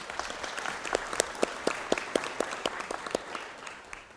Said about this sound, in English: I'll give her a round of applause, please